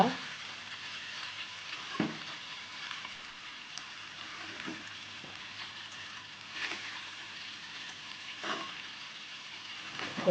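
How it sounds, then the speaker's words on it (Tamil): Ragi semiya stirred in a pan over low heat, a faint soft frying hiss with a few scattered spatula scrapes and taps spaced several seconds apart. "நல்லா இது மாதிரி கிளறி விட்டுக்கலாம் சிம்மில் விட்டு செய்யுங்க"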